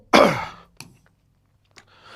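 A single harsh cough bursts out close by, followed by a couple of faint throat sounds and breaths in a quiet room.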